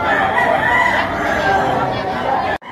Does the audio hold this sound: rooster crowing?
yes